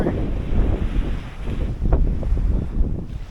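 Wind and surf at a small St. Croix beach in the US Virgin Islands: steady rushing waves with gusts buffeting the microphone, continuous and fairly loud, with no talking.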